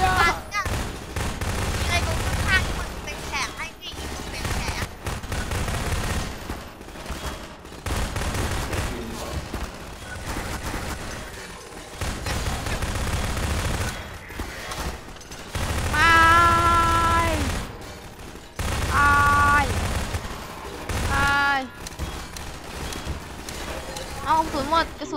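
Gunfire in Garry's Mod, bursts of rapid shots and single cracks scattered through the scene, loud and close, mixed with excited voices talking over the action.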